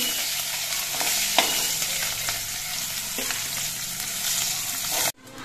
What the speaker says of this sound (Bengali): একইভাবে আমি বাকি মাছগুলো ভেজে নিচ্ছি।